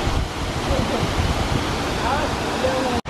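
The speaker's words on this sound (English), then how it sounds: "We're at the waterfall." A steady, rushing roar of a waterfall on the Oregon coast fills the air, broad and constant, before cutting off abruptly near the end.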